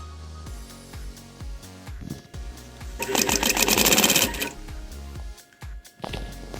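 A domestic sewing machine darns a hole in jeans, running a back-and-forth zigzag stitch over the fabric. Short stops and starts lead into a loud, steady run of fast needle clatter at close range, then shorter bursts.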